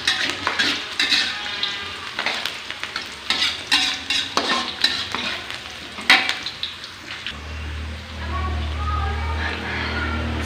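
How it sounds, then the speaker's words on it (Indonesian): Onions fry in a pan with a steady, close sizzle broken by scraping and clinking from stirring, and a low hum settles in toward the end. "Sembari goreng bawang,"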